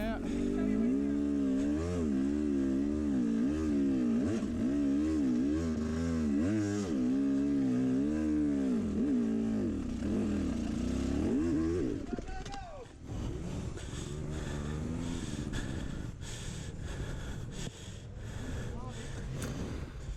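Enduro dirt bike engines at a race, wavering and revving loudly as bikes pass close by, then fading to a quieter, rougher engine sound with wind noise.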